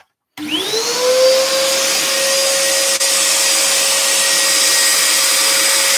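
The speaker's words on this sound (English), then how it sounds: "So extractor goes back on." A dust extractor in a woodworking shop switches on and spins up to a loud, steady whine that holds constant, close by, with no talking.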